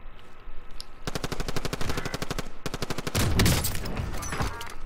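Rapid automatic gunfire in the video game Call of Duty: Modern Warfare, loud sustained bursts with brief gaps and a heavier blast near the end, with no talking over it.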